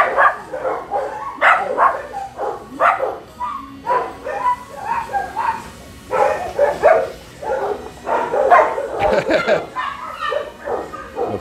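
Puppies at an animal shelter bark and yip in rapid overlapping bursts, loud and close, with a few whimpers mixed into the busy, irregular chorus.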